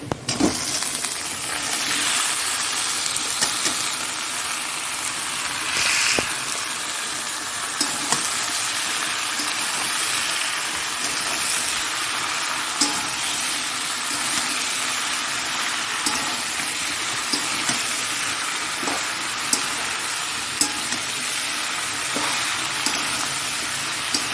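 Boiled jackfruit and prawns fry over already-browned onions in a pan, giving a continuous bright sizzle with occasional scrapes and clinks of stirring throughout.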